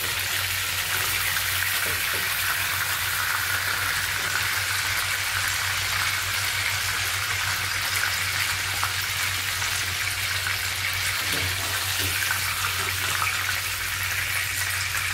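Chicken meat lightly frying in a pan with whole spices such as bay leaf, dried chilli, peppercorns, cloves, cardamom and cinnamon, a steady soft sizzle holding evenly throughout with no talking.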